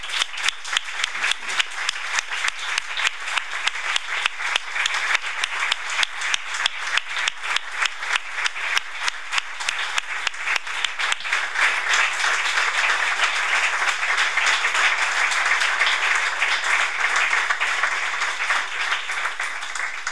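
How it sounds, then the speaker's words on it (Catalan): Audience at an institutional 9 d'Octubre ceremony applauding, starting as rhythmic unison clapping in a steady beat and then breaking into a sustained, loud, dense ovation. "Un aplaudiment."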